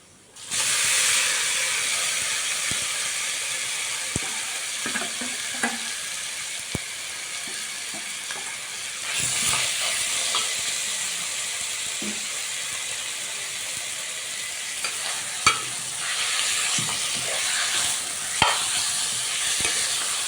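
Marinated chicken fries in a pan for a brown rice chicken dum biryani, giving a steady hiss and sizzle broken by occasional clinks and scrapes of stirring.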